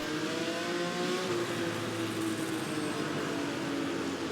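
Classic 1960s sports racers such as Fords, Ferraris, Alfas and Lolas run on the Brands Hatch circuit in a racing game, giving a steady engine drone with a sustained tonal whine that holds fairly constant throughout, with no talk.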